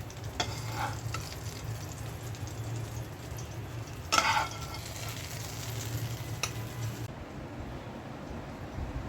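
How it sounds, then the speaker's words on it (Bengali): Eggplant slices frying in a pan in a home kitchen, a steady close sizzle throughout with a brief louder crackle burst near the middle, no voices. "তাই বেগুন ভেজে নিচ্ছি।"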